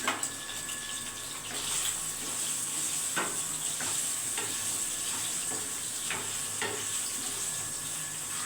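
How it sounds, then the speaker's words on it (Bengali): Steady sizzling of paneer frying in hot oil over low heat, with a few sharp scraping clicks of a spatula stirring the pan. "হালকা আঁচে কিন্তু আমি পনিরগুলো ভেজে দিচ্ছি"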